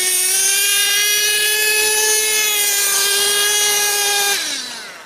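The nitro engine of a 2021 HPI Savage X 4.6 GT-6 RC truck screams at full throttle in a steady, piercing high whine that holds for several seconds, then drops in pitch and fades as it eases off.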